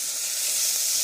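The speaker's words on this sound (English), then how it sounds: "Just going to stir the garlic right in there." Garlic sizzling in oil in a frying pan while being stirred: a close, steady bright crackle and hiss, unbroken and fairly loud, with no voices.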